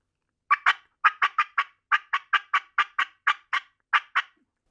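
A mouth-blown turkey call plays a cluck-and-purr sequence of about fourteen short, clipped clucks in irregular pairs and runs, close and fairly soft, imitating a wild turkey with no talking.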